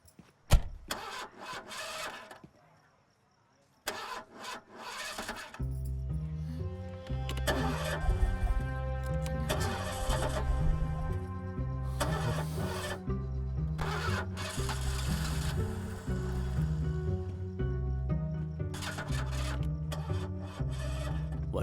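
A car out of petrol cranks repeatedly without catching, the starter grinding in rhythmic bursts after a couple of short clicks and a brief pause, loud and close.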